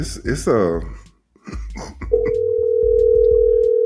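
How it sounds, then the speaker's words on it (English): An outgoing phone call produces a steady, unbroken line tone that starts midway and holds to the end, following a brief burst of close talking. "Is she gonna answer the phone first?"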